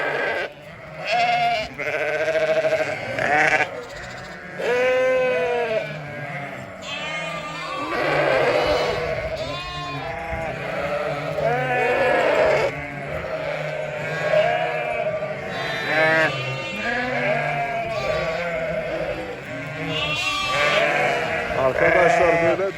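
Sheep and lambs bleat repeatedly from several directions on a shepherd's farm, overlapping calls near and far, with occasional voices in the background.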